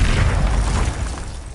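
A Confringo blast spell from Hogwarts Legacy lands as a single deep, booming explosion that rumbles loud and close, sustained with a heavy low-end roar that slowly tapers off across the short burst.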